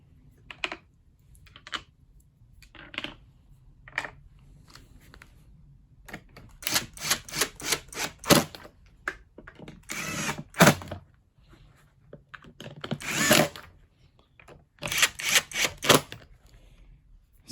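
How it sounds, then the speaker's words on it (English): Screws are driven back into a Numatic Henry HVR200-12 vacuum cleaner casing, with scattered close clicks and tool rattles, then bursts of ratcheting and whirring, and quiet pauses between. "Flip it over, 4 screws go back in."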